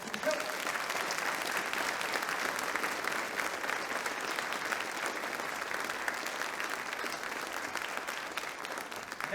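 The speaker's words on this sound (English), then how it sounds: "can we have another round of applause for that?" An audience at a Michigan Supreme Court community event held at Southwestern Michigan College breaks into sustained applause, a thick, even wash of many hands clapping that holds steady from start to finish.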